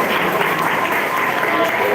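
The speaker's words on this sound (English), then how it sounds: "That is not a robust round of applause." An audience at an honoree ceremony claps in a steady, dense wash of many hands, close and fairly loud for a couple of seconds without letting up.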